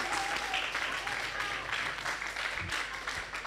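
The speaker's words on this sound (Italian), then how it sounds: "Facciamo un applauso più forte" Loud applause from a congregation at a live church gospel service, a dense steady wash of clapping that fills the whole stretch, with voices mixed in underneath.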